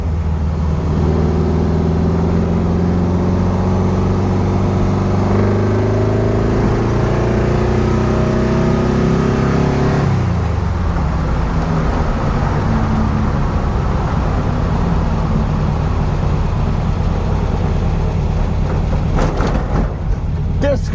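A 1964 VW Karmann Ghia outlaw build's engine drones loudly on a road test, its tone climbing steadily under acceleration before dropping sharply about halfway, then pulling on with constant road and wind noise.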